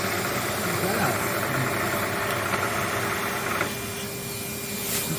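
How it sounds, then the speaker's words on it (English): A Hoover vacuum cleaner runs in a machining workshop, a loud, steady droning whine that holds throughout and eases slightly near the end. "Let's turn the fucking Hoover off"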